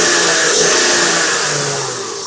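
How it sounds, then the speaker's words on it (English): A Lexus IS300 engine with a new header roars close by, rumbling at idle before a burst of throttle makes it rev loudly, then it eases off. "here's what the car sounds like while idling with a new header"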